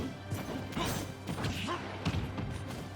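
Heavy smashing impacts go off in a competitive Super Smash Bros match as a thrown blaster's hit is followed by a big explosion, with several loud thuds and crashes packed into a few seconds.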